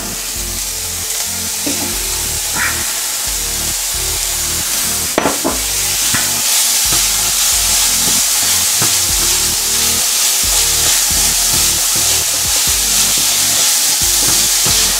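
Two hundred grams of ground beef fry in a pan, sizzling loudly and steadily with repeated scraping and stirring strokes and one sharp clack partway through.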